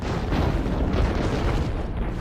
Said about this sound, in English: Rebolts are firing into their men, shooting their own men because of the short ranges